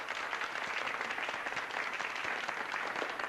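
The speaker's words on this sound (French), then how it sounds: "On les applaudit." A crowd applauds participants at a Christmas gathering, steady dense clapping filling the whole stretch at a constant, fairly loud level with no pauses.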